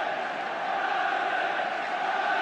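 Steady roar of a large football crowd at the 1985 FA Cup Final between Manchester United and Everton, a dense continuous stadium noise without breaks.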